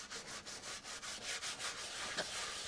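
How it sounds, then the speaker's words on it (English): A Honda CL175 motorcycle part being scrubbed by hand, giving a steady, close, rhythmic rasping with regular back-and-forth strokes, fairly quiet throughout. "And then we'll keep scrubbing at this."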